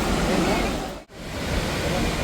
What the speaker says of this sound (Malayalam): This is Athirappilly വെള്ളച്ചാട്ടവും.